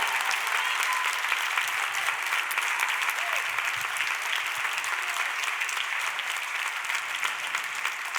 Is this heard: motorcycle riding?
no